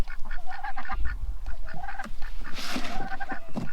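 Ducks quack and honk at feeding time as corn is put out, a busy cluster of repeated nasal calls overlapping nearby, with scuffling and flapping mixed in.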